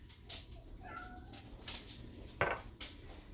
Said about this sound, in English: Who is meowing?